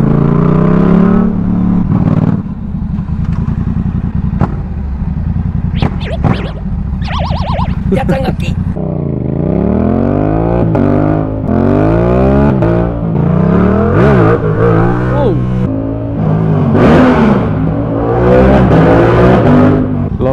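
A Yamaha R7 two-cylinder motorcycle engine revs hard and repeatedly, pitch sweeping up and down through gear changes, loud and close, with a brief exclamation from a voice.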